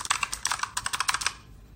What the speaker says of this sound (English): The really sharp, crisp click is back.